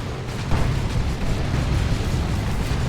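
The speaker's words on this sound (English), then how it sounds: "Stick Bombs going in." Ork stick bombs explode in a Warhammer 40,000: Dawn of War 2 battle, a heavy thump standing out early amid a steady roar of rumbling blasts and combat noise.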